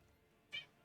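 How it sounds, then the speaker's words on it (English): A single short cat meow, fairly faint and brief, rising out of a quiet room. "You're the loudest little kitty."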